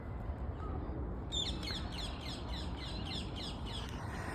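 A European robin sings in an English park, a thin run of high sweet warbling phrases starting partway in and repeating over a steady low outdoor rumble, fairly faint and without talk.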